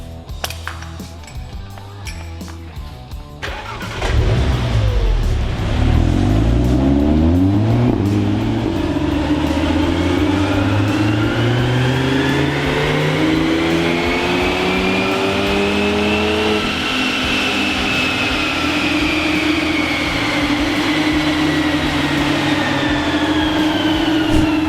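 An Audi TT with an Armytrix exhaust strapped to a dyno, its engine climbing loudly from a low idle into a long, rising rev sweep that holds steady near the end, with no talk.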